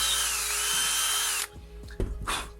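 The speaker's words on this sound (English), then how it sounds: "wiggle the drill around a bit if you want to make" A power drill bores holes in a wooden box, whining loud and steady before stopping abruptly, then a few short knocks and clatters of handling follow.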